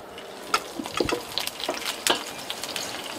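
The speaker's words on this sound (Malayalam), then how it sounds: "ഇതിലോട്ട് ഞാൻ നീളത്തിൽ അരിഞ്ഞ് വെച്ചേക്കുന്ന കുറച്ച് പച്ചമുളക് ചേർക്കുന്നുണ്ട്." Long-sliced green chillies hit hot oil in a pan for a beef fry, crackling close up with a series of sharp pops and spatters over a continuous sizzle, no one speaking.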